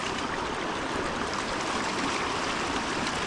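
Swollen, flooded creek running about eight feet deep where it is normally two, a steady full rush of water close by with no letup, heard alone without any voices.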